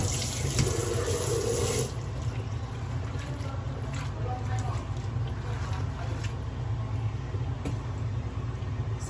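Bitter gourd (ampalaya) being rinsed under running tap water in a kitchen sink, a steady close splashing wash that continues throughout, with faint talk in the background.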